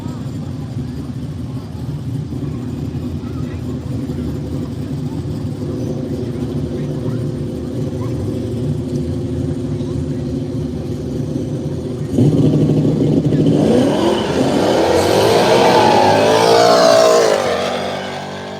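Drag race launch between a Chevy Camaro and an S550 Mustang at an arm-drop event: steady engine idle rumble, then a sudden loud surge of revving engines accelerating away, roaring and rising before fading slightly at the end.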